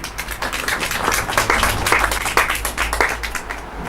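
A festival crowd applauds outdoors at Bushfest in rough weather, with close, loosely rhythmic clapping over a steady low rumble of wind or background noise, and no talk.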